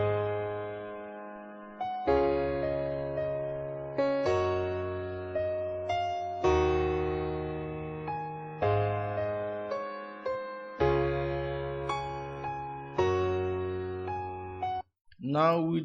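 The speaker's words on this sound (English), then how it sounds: "The piano sounds like this without the plugin." Dry, unprocessed piano playing a slow sequence of sustained chords with a clear low bass, close and even in level, with a brief stray noise at the very end.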